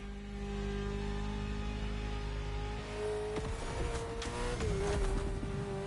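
Ferrari sports car engine in the game The Crew Motorfest, a steady engine drone at first, then shifting pitch with sharp transient crackles and tire noise as the car is driven hard.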